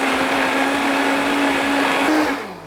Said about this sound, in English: We're gonna blend this up.